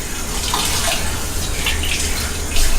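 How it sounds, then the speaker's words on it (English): Steady, loud rush of water running from a barber's sink tap during a traditional forward hair wash, an unbroken hiss with no talking. "I'm going to wash the hair the traditional way"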